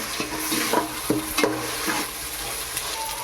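Onion and ginger paste frying for chicken biryani, a soft continuous sizzle with quick spatula stirs and scrapes in a pan, close and alone with no talk.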